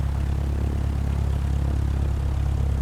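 Single-engine Reims Rocket airplane in a flight simulator game, a steady loud low engine drone that holds even throughout, with no voices over it.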